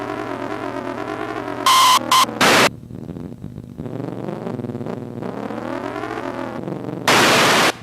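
Gritty, distorted electronic engine tones from the 1970s arcade racing game Grand Track 10 rise and fall like a racing car, broken by harsh bursts of static noise from the brakes, loud and lo-fi.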